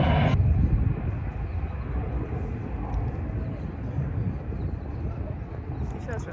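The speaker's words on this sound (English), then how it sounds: "There's another airplane." A distant airplane passing overhead outdoors, heard as a broad, steady low rumble with light wind noise; a voice speaks briefly at the start.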